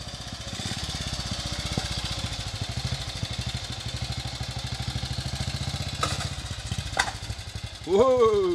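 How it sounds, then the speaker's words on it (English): A 1940 BSA WM20 motorcycle rides along with a steady, close single-cylinder thump and rapid regular exhaust pulses, a few clanks, and a rising engine note as it revs near the end. "This is Pete on a 1940 BSA."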